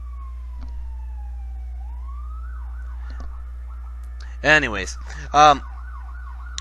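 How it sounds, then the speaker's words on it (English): An ambulance siren wails past in the street, a steady swooping tone rising and falling throughout, with a few brief spoken bursts partway through. "It's the ambulance!"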